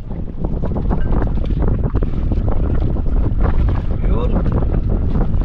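Strong wind roars steadily across an open microphone on a fishing boat at sea, with waves and spray mixed into the dense, continuous noise while someone talks underneath.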